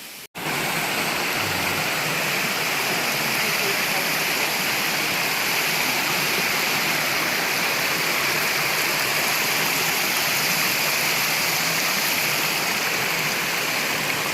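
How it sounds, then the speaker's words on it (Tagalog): River stream at Wawa in Montalban, Rizal, flowing steadily at dusk, a loud, continuous broadband rush of water close by with no pause throughout. "Dito na kami sa ilog."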